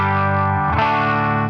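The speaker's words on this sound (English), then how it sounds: "the BLDeluxe straight into the 65 Deluxe Reverb Fender amp" An electric guitar plays through a Rodenberg BL Deluxe British Legend amp pedal straight into a Fender '65 Deluxe Reverb amp, a sustained crunchy chord that shifts to a new voicing partway through and rings on loudly.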